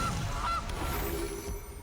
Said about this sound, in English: So play Gilded Goose.